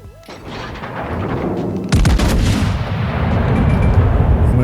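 Battleship main guns fire at the Colorado in World of Warships: a loud, close deep boom followed by a rolling, sustained rumble of the salvo.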